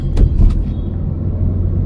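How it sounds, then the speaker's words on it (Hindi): Heavy Delhi road traffic heard from inside a moving car: a steady, loud low rumble with a few brief knocks near the start. "ट्रैफिक बहुत है,"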